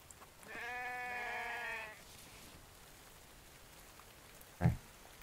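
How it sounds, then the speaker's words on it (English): A sheep in the video game The Infected lets out a single drawn-out bleat of about a second and a half, moderately loud over quiet background, followed later by a brief isolated thump. "Sheep."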